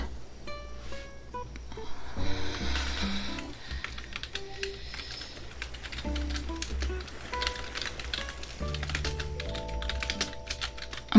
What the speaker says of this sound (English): about all of the keyboard noises